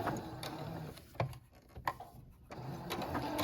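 A quiet sewing machine stitches a doll nightgown in short runs, its soft whirring broken by brief pauses and small clicks as the fabric is pivoted with the needle down.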